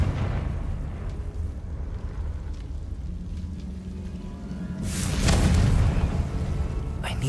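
A spell blast goes off in a wizarding video game, a deep booming explosion with crackling debris swelling midway and lingering, then a second burst near the end, amid rumbling game ambience.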